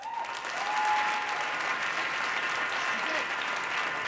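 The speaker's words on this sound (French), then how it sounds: "Qu'on applaudit, s'il vous plaît." An audience at a live spoken-word event in Quebec applauds in a dense, even round of clapping that holds steady for several seconds, with a faint voice briefly audible underneath.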